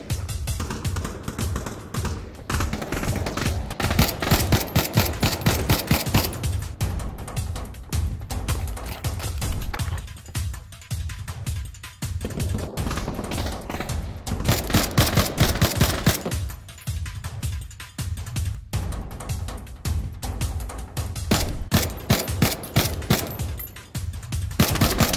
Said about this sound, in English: I'm taking accurate fire from the motel roof.